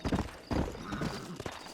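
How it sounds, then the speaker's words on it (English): Horse hooves clip-clopping in the Western video game Red Dead Redemption, a quick uneven run of close, fairly loud hoofbeats with a brief whinny-like sound, no talking over it. "That's a very skinny horse."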